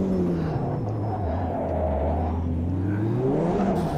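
A race car engine in the Automobilista 2 racing game drops to first gear after hard braking and revs, producing a loud, continuous whirring drone that dips and climbs again in pitch, with no talking.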